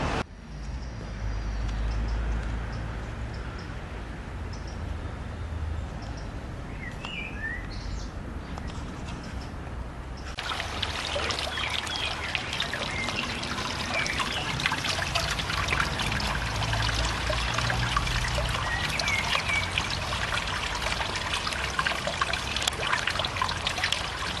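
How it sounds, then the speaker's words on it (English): Water trickles steadily from an outdoor drainage pipe, a continuous close splashing dribble that grows fuller and louder partway through, with faint birdsong in the background. "the water is taken in through a pipe in the side, and then it leaches out into the ground"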